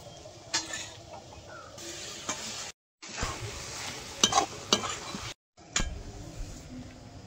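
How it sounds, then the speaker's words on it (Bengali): Cabbage is stir-fried in a pan, giving a soft continuous sizzle broken by spoon clinks and scrapes against the metal, with two brief gaps of silence. "এবার বাঁধাকপিটা ভালো করে নাড়াচাড়া দিয়ে দিয়ে ভেজে নেবো"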